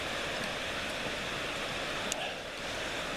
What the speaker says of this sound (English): sound of cascading water down a little waterfall